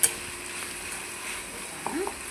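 Tomatoes for a broad bean palya are stirred in a hot pan, giving a soft, continuous sizzle with a few quick scraping strokes of the spoon near the end.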